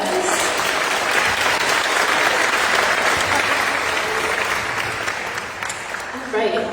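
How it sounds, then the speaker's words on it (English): An audience at a women and leadership event breaks into a sustained round of applause, loud and even across the whole stretch before tapering slightly at the end, with a voice briefly emerging as it fades. "And one more round of applause."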